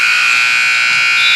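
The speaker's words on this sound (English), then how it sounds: "fires up a shot at the buzzer" Game buzzer ending the third quarter of a girls' high school basketball game: a loud, steady electronic buzz that holds unbroken through the whole moment.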